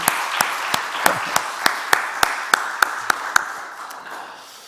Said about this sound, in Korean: 여러분 박수 한번 내줍시다